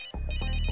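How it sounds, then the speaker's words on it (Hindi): Phone ringtone, a bright electronic melody of repeating tones, starts abruptly and plays loud and close for under a second. "Phone phone phone."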